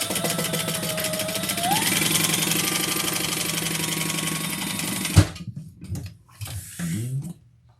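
A sewing machine stitches across the top of a leather and vinyl crossbody bag, a fast steady mechanical chatter for about five seconds that stops abruptly, followed by a few soft handling clicks and rustles.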